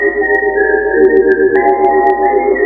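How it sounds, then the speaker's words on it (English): An eerie whistled film theme: a sustained, wavering whistled melody, steady and clear over soft held accompaniment, no voices. "that whistling, creepy music"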